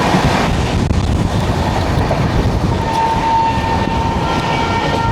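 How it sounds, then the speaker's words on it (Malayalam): The East Coast Express, running from Kadalappally to Shalimar, rumbles past close by in India with a loud, steady rattle of wagons and wind buffeting, alone without voices. "ഈസ്റ്റ് കോസ്റ്റ് എക്സ്പ്രസ് വരുന്നുണ്ട് കടലപ്പള്ളിയിൽ നിന്ന് ഷാലിമാറിലേക്ക് പോകുന്ന"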